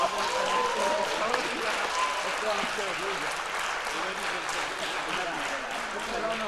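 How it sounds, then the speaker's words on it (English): An audience at a venture day event in Madrid applauds in a dense, sustained wash of clapping that stays loud and even throughout, with voices mixed in underneath. "We want to give a big hand of applause to the people that have made this possible today."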